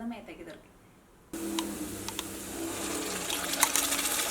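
Yogurt goes into golden fried onions in a pan, a sudden wet sizzle and bubbling that starts abruptly after a quiet moment and continues with small pops and spatters.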